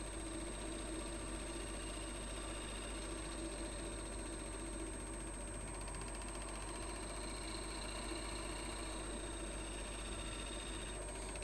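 An engine idling steadily at about 800 RPM while jaws are being made, giving a continuous low, even drone with faint vibration throughout, no talk over it.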